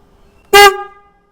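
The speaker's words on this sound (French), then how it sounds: "maintenant il n'y a plus qu'à essayer le nouveau klaxon" A Denali SoundBomb Mini horn fitted to a Suzuki V-Strom 800DE motorcycle gives one short, loud, brassy blast, close up, then cuts off with a brief ringing decay.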